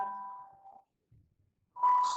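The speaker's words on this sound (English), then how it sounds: "Excuse the bell." A school bell rings in a classroom as a steady electronic tone, sounding once, stopping for about a second of near silence, then sounding again loudly.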